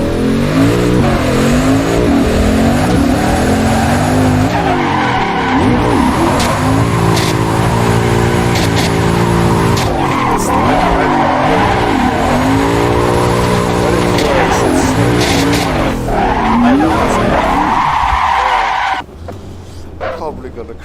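A Mazda RX7 FD3S driven in the Assetto Corsa racing game, with a loud engine revving through repeated gear changes, tires squealing, and the engine cutting out near the end.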